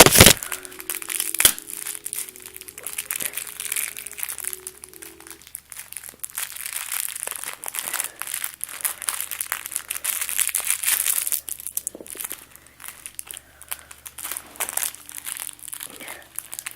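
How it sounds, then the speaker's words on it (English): Knife slicing open a plastic bag of cheap airsoft BBs, with close crinkling, crackling plastic and scattered sharp snaps over several seconds, the bag rustling steadily as it is worked open. "1 second while I cut open the bag."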